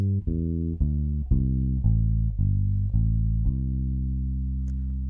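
An electric guitar plays a steady ascending pentatonic scale, one clear note after another at an even pace, each ringing into the next, with no voices.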